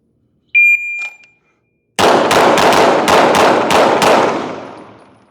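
Live gunfire during a shooting transition drill: after a short electronic timer beep, a rapid string of about eight loud, close gunshots rings out in quick rhythm, then the echo fades.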